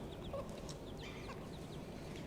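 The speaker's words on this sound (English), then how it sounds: "These are red junglefowl." Small red junglefowl chicks cluck and peep in short soft calls from a few birds over a steady low outdoor background hum, with no talking.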